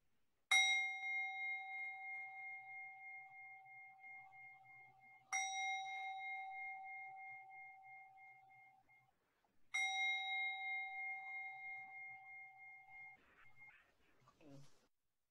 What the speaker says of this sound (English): Let's begin this morning with focusing and enjoying our bells.